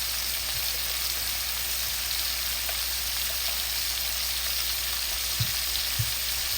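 Soft, even sizzle of dried red chilies frying in oil in a pan for a tomato mash, a constant crackling hiss close by with a couple of faint clinks.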